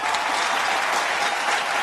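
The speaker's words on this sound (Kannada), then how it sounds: "ಬರ್ಲಿ ಜೋರ ಚಪ್ಪಾಳೆ." A TV game-show studio audience breaks into loud, dense applause after a countdown, a steady wash of many hands clapping at once, close and uninterrupted with no voices.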